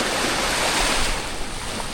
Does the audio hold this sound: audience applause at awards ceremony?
no